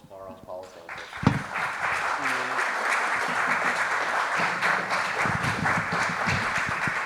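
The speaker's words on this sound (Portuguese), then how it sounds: "Salva de palmas para as pausas." An audience at a panel debate breaks into applause after a brief voice, a full continuous clapping crowd that swells quickly and keeps going, with some talk mixed in underneath.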